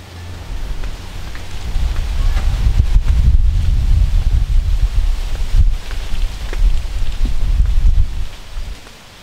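Strong gusts buffet the microphone outdoors in Eleuthera, a heavy low rumble of wind rising and falling with faint patters throughout.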